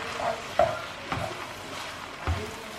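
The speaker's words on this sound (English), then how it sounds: "just keep on stirring that around until the butter melts all through those noodles" Fettuccine noodles stirred with melting butter in a pan over medium-low heat, soft scraping and stirring with a gentle sizzle and three brief utensil taps, close and fairly quiet, no talking.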